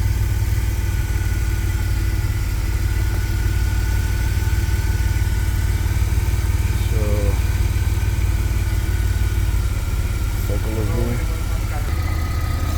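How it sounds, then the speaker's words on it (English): A 2000 Chevy Astro van's engine idling loudly and steadily after a no-start fault was fixed, a constant low rumble throughout with faint voices in the background. "the engine is running. You can see running no problem."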